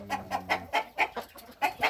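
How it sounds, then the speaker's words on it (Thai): Chickens cluck in a series of short, repeated calls at a steady rhythm, close and fairly loud, with a low hum under the first part and no talk. "อันนี้มันไก่"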